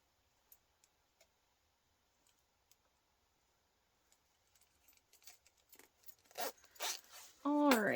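Zipper handled while sewing a portable console case, starting with sparse faint ticks and clinks, then building into quick zip pulls and rustles, with a voice beginning at the very end.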